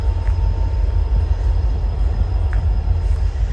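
A loud, steady low rumble of a train engine fills the whole stretch, constant and close, with faint high whine above and no talking.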